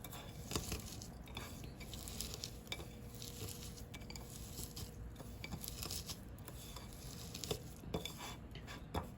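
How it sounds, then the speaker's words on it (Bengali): Dried chillies, fried green chillies and kamranga chillies are mashed and mixed by hand in a bowl, giving continuous soft scraping, squelching and light clinks of the dish, faint and close with no talking. "এখন মাখিয়ে নিচ্ছি শুকনো মরিচ, ভাজা কাঁচা মরিচ, কামরাঙ্গা মরিচ।"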